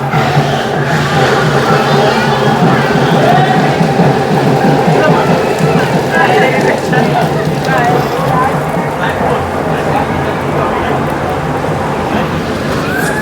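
Heavy rain batters a train on an intercity express run between Jabalpur and Raipur, making a dense, loud, continuous hiss and patter mixed with the rumble of the moving carriage and muffled voices.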